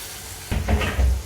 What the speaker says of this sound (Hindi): इन सभी मसालों को डालने के बाद हम अच्छे से 1 मिनट के लिए भून लेंगे।